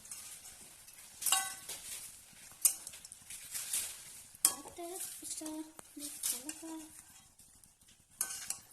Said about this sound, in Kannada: ಕಾಯಿ ಹಾಕಿ ನೀಟಾಗಿ ಇನ್ನೊಂದ್ಸಲ ಕಲ್ಸ್ಕೊಂಡು